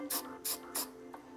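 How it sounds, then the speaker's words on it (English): Frosted glass spray paint sprayed onto the inside of a glass lantern shade, three short hissing bursts in quick succession followed by a fainter fourth puff, close and alone. "We're gonna use some of this frosted glass spray paint now, and we're again gonna go the inside of the glass."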